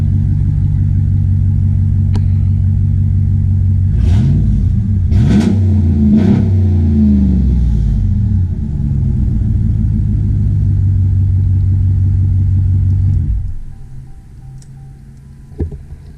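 A loud 5.9 Cummins diesel truck engine with a muffler delete idles with a deep rumble, then revs sharply several times before settling and cutting off to near quiet.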